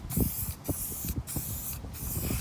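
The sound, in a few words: spraying protectant onto dirt bike plastics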